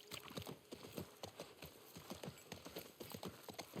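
Horse hooves clip-clopping at a steady riding gait in the video game The Last of Us Part 1, a quiet, regular four-beat patter of close hoofbeats continuing throughout.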